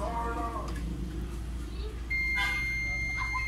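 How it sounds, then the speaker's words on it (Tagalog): A multimeter's continuity buzzer sounds a steady high beep while probing a shorted component on the board of a Nova 32-inch LED TV with no picture, a short tone near the end over a constant low hum. "pag narinig natin yung buzzer, ibig sabihin shorted na yan."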